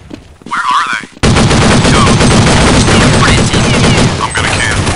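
Rapid sustained gunfire rattles loudly in Counter-Strike Nexon: Zombies, continuous bursts dominating after a brief quieter opening with faint voice radio chatter.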